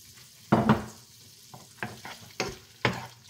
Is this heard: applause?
no